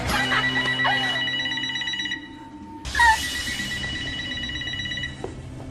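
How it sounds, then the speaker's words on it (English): A telephone rings indoors in a staged comedy scene, a bright electronic trill that sounds, pauses briefly, then starts again, loud and close with no speech. "after you watch the tape, the phone rings"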